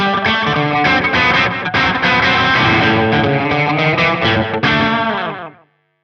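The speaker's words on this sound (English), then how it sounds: "sound is the so-called slapback echo with a very short delay time" Electric guitar run through a slapback echo with a very short delay time, a loud distorted riff of quick strummed chords with tight doubled repeats, ending in a brief fade to silence.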